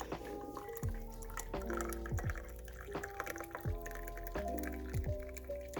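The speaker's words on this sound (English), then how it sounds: "put boiling water in it." Boiling water poured into a cup to make tea, a soft, close liquid trickle with small dripping plinks and gurgles running steadily throughout.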